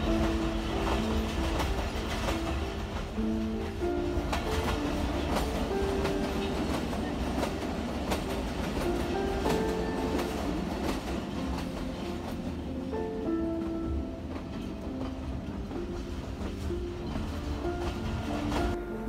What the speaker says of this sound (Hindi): वैसे तो टनल के अंदर जाने का मज़ा कुछ और होता है ट्रेन में, लेकिन उनका शोर कुछ ज़्यादा होता है।